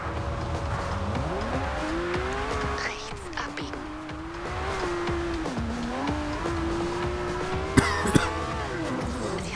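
A McLaren P1 hypercar engine revs in Forza Horizon, its pitch rising and falling through gear changes with tire squeal and a few sharp knocks near the end.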